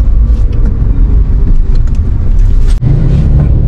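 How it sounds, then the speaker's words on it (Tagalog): Heavy traffic in rainy weather, car engines rumbling loudly and steadily close by with a brief dip before the low drone resumes, no voices. "Pero traffic na talaga eh"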